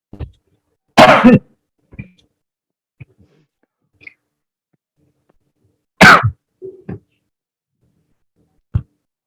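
Several separate coughs from a person still recovering from illness, with two loud bursts and a few fainter throat sounds and clicks between them, close and alone with no talk.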